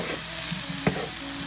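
Mixed vegetables fry for vegetable fried rice, crackling in a soft continuous sizzle, with one brief sharp tap of a utensil against the pan.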